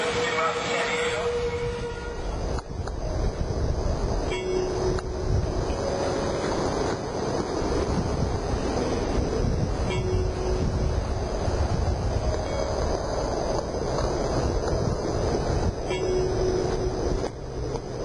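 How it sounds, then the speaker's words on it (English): Southbound Amtrak 572 passenger train bound for San Diego rumbles steadily and loudly throughout, a continuous rolling roar with occasional faint tonal squeals from the wheels or rails. "Southbound Amtrak 572 en route to San Diego"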